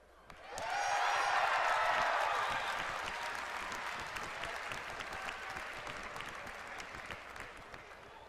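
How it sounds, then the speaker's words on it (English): A large audience at a Warlords of Draenor presentation bursts into loud cheering and applause that swells quickly, peaks, then slowly fades while the clapping keeps going. "I like how we could get that kind of cheer when we introduced reforging and the same cheer when we get rid of it"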